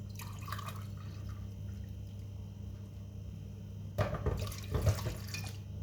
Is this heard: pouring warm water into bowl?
yes